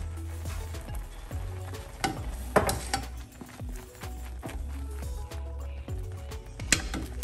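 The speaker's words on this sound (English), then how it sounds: "let me just mix it up so you can see the consistency" Thick Jamaican-style peanut porridge with green plantain and oatmeal stirred in a pot, a continuous low bubbling simmer with repeated spoon scrapes and soft clanks against the pot, close and steady with no talk.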